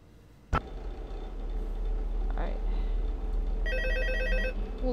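In the Five Nights at Freddy's 2 video game, a telephone starts ringing near the end with a rapid electronic trill, after a sharp thud and over a low ambient drone.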